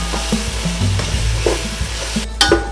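Shahjeera (caraway cumin) seeds fry in hot oil for an Arabian chicken kabsa, giving a close, steady sizzle broken by stirring clinks and scrapes, with a brief louder crackle near the end.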